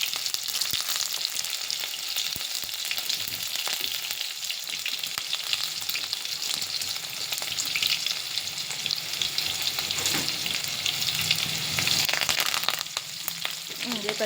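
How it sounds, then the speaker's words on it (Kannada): Food frying steadily in a pan with onion, curry leaves and a ground chilli-garlic paste, a continuous loud sizzle with occasional stirring clatter throughout, no talking. "ಏನೊಂದು ಸ್ವಲ್ಪ ಹುರಿಲತ್ತೀನಿ"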